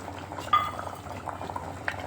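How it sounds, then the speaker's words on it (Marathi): Spicy bangda (mackerel) fish curry simmers in a pot, soft bubbling pops and gentle blips over a low steady background, close and quiet. "आता बघा याला कशी छान तरी पण आली आहे आणि उकळी फुटली"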